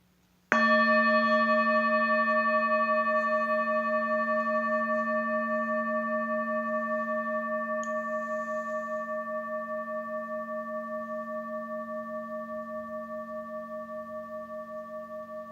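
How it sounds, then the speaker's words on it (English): A meditation bell is struck once, ringing out with a clear, sustained metallic tone and rich overtones, then slowly fading across the long stretch toward silence, heard alone. "I will sound the bell"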